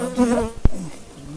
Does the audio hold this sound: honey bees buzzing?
yes